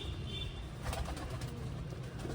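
King pigeons, an Andalusian-coloured male and a black female, coo softly in a small loft cage, with low murmuring coos over steady background hiss.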